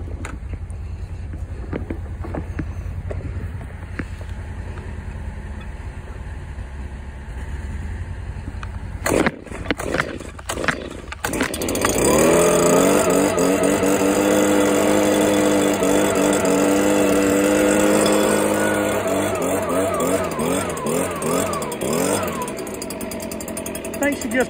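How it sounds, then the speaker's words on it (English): A BG56 leaf blower engine is pulled over a few times with sharp cranking bursts, then catches and runs loud and steady close by, its pitch wavering as the throttle changes. "Let's see if this BG56 will crank up"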